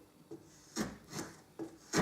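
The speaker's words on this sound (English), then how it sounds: "hold in this flat, run across it" Slow back-and-forth rasping strokes of a hand file across spalted wood for a guitar pick, about four passes, each a soft scraping burst with quiet gaps between.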